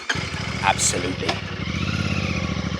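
A Royal Enfield Classic 650 motorcycle pulls away with a close, steady, pulsing twin-cylinder thrum, joined early on by a few brief higher-pitched sounds over the engine.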